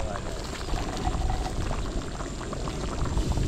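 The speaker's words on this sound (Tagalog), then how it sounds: "So ilagay natin ang kanyang beans." Beans going into a pot of pork pochero, a steady close pouring and bubbling wash of liquid that runs throughout, with a voice speaking underneath.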